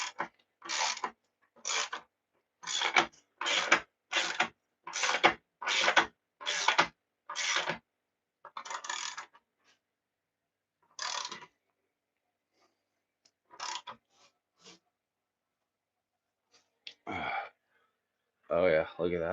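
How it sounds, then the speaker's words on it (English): A ratcheting torque wrench tightens the rear axle of a 2016 Suzuki GSX-R600, making about ten rhythmic bursts of close clicking followed by a few scattered strokes, with quiet gaps and brief breathing sounds between them. "let's see if it changes when we torque the axle down."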